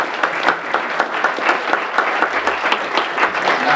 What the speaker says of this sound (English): Can we also have a round of applause for Fred Block?